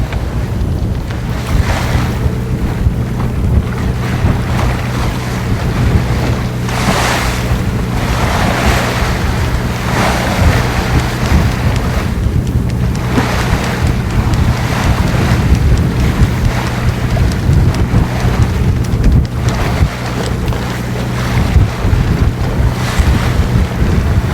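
Strong wind buffets a sailing boat on open water near the coast, with steady roaring gusts and the rush and slap of waves against the hull throughout, loud and continuous with no voices.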